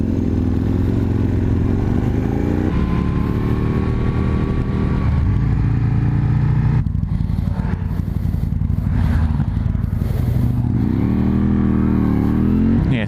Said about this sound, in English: the R1200R in front of me there, that is a bike I really do have a likening for